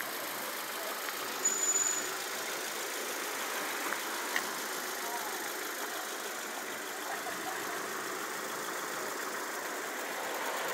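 A 33-year-old Renault 4 GTL idles in Croatia, making a faint, steady engine hum with no talking.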